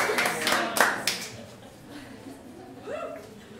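A game-show studio audience claps and cheers for the contestants, a bright burst of applause that fades into quieter scattered sound, with a voice speaking near the end.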